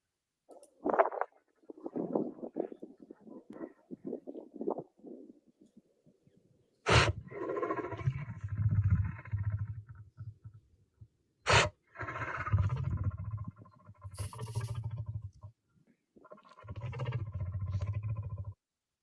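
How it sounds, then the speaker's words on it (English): A lion snorts and sneezes in a few abrupt, sharp bursts, each followed by low, rumbling breaths and growls. The sounds are fairly close and come amid quiet pauses. "Have you ever heard a lion sneeze?"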